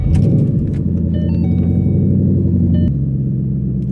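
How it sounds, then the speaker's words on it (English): A 2013 Ford Mustang GT's engine rumbles loud and steady throughout, a close, deep idle with a faint metallic jingle early on and a slight drop in tone near the end. "So let's start the car up here, go for a drive"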